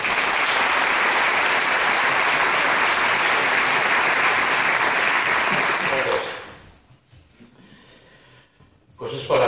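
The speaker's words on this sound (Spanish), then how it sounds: "Un fuerte aplauso." A book-launch audience claps loudly and steadily for about six seconds, then the applause stops abruptly into near quiet before a voice begins speaking close by.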